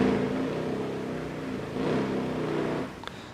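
A Top Fuel dragster engine rumbles at a drag strip during the AMRA finals, a loud sustained low roar that swells toward the middle and drops away near the end, heard from a distance without talk.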